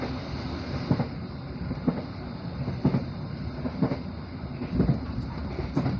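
An Indonesian KA Dharmawangsa passenger train running on uneven track near Bekasi, a steady loud rolling rumble broken by regular clacking wheel impacts roughly once a second, heard from inside without voices.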